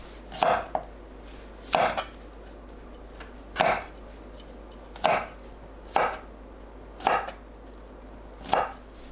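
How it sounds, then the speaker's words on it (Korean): Knife chopping washed broccoli into bite-size pieces on a cutting board: seven crisp, evenly spaced chops, close and clear, with no talk. "씻은 브로콜리를 한 입 크기로 썰어 주세요."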